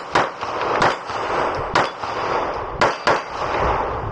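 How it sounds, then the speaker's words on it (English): Sharp pistol shots from a Taran Tactical JW4 Pit Viper fired in quick strings, about six loud close reports spaced irregularly over a noisy, echoing outdoor background. "Oh, hell yeah, I can shoot this a lot faster."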